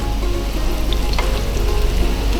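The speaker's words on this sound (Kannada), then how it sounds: "ಸೊ ಗ್ಯಾಸನ್ನು ಲೋ ಫ್ಲೇಮಲ್ಲಿ ಇಟ್ಕೊಳ್ಬೇಕು ಫ್ರೈ ಆಗಬೇಕಾದ್ರೆ" Paneer frying in a pan over a low gas flame, a steady close sizzle and crackle running the whole time with occasional small pops, no talking.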